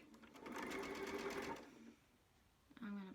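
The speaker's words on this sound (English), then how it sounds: "We're going to sew around the perimeter of the entire pillowcase." A sewing machine runs in a fast, steady burst stitching a scant quarter-inch seam around the edge of a pillowcase with enclosed seams, pauses briefly, then starts again for a short run, close and clear.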